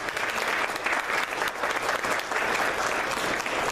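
An audience at a 2018 town council candidate forum in Edgewood applauds, a steady, moderately distant burst of clapping that lasts the few seconds without a break.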